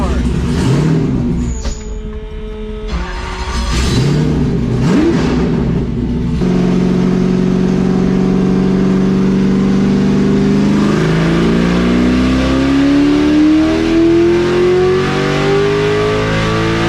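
Car engine running on E85 fuel during a chassis dyno pull with a richer tune: an idle with short blips, then a loud, sustained rev climbing steadily in pitch, close by, with people talking early on.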